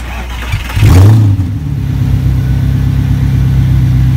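A car engine cranks and catches with a sharp rev, then drops into a steady, close idle rumble that continues to the end.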